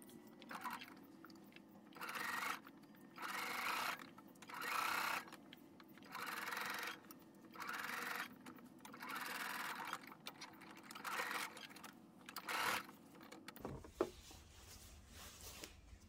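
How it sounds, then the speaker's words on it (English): Sewing machine stitching a quarter-inch seam along a vest's back neckline, running in repeated short bursts of rapid mechanical whirring and clatter separated by brief pauses, close and fairly loud, ending with a click. "we're just going to stitch it"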